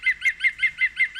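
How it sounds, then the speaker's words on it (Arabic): A woodpecker calls in a German woodland, a rapid, evenly spaced run of about seven sharp, bright notes, each close and clear against a quiet background with no voices. "ايوا هذا خوتي نقار الخشب، هذا نقار الخشب راكم عارفينو"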